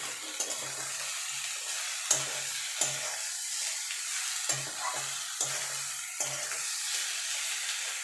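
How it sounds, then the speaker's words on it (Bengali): Small mourola fish gently mixed in a dry kadai with potato and brinjal give a steady, close frying hiss, broken by soft scraping thumps of the spatula at uneven intervals, with no one talking. "দেখুন এবার মাছটা দিয়ে দেবো, দিয়ে ভালো করে আলগা হাতে মিশিয়ে নেব"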